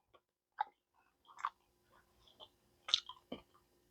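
Someone eats an air-fried vegan Chicago-style pizza puff, with scattered soft chewing and biting crunches close to the mic and quiet pauses between bites.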